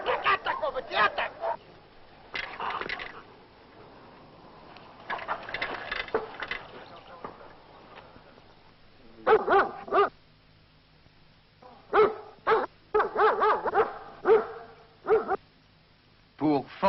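A guard dog in attack training barks in loud, repeated bursts, with yips and whimpers between them, while a handler speaks and shouts commands nearby.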